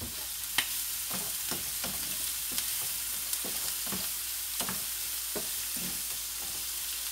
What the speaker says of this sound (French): je vais rajouter un petit peu d'huile d'olive. Huile d'olive, juste un petit peu. Hein, pour pas que les oignons grillent.